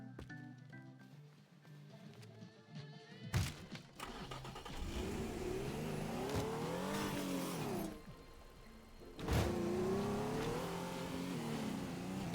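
A real car revving in the video game Teardown: an engine note that climbs and falls in pitch, a sharp start-up burst, then a second strong rev, fairly loud with no talk over it.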